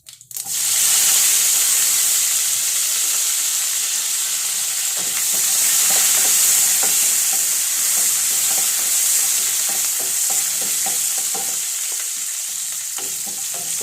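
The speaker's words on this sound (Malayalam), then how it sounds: "നമ്മൾ ഇതിനകത്തേക്ക് ഇട്ട് കടുക് വറുത്താൽ മതിയേ" Mustard seeds sizzle and fry in hot oil with a steady hiss, crackling and popping in quick irregular bursts, close and loud throughout, as a tempering for South Indian curry.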